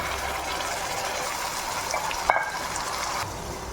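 Tomato paste goes into onions frying in a pan for crab masala, a continuous hiss of sizzling oil with a brief wet splash and a louder crackle partway through.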